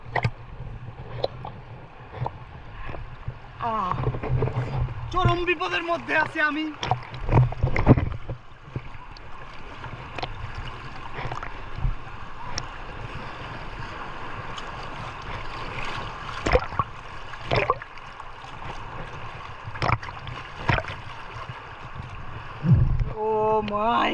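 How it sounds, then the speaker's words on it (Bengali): Strong river current and waves at Jaflong rush and gurgle around a person in the water. Splashes come in bursts, and someone shouts and talks excitedly over the churning water. "দেখেন কি ঢের স্রোত এই স্রোত দিয়ে আমি অনেক দূরে চলে যাচ্ছি"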